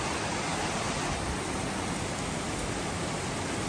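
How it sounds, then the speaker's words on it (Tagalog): Heavy typhoon rain pours down in Laguna, a loud, dense, unbroken roar of water striking surfaces that fills the whole stretch evenly with no gaps. "Ito na yung bagyo, mga kababayan. Lakas ng ulan."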